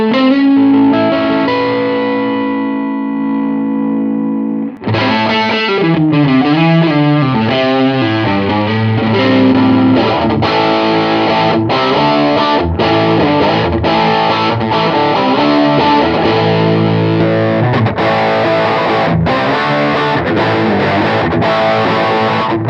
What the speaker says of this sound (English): Let's put an overdrive in front of him